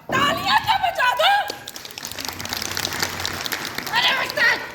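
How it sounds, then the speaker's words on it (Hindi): Audience clapping at a women's homemakers personality workshop, a scattered patter of applause under chatter and light laughter, between stretches of someone speaking. "जमूरे इन सबको बोलो तालियां तो बजा दो"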